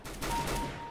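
Rapid burst of gunfire from the CS:GO competitive shooter, loud and close, a short continuous volley with no talking.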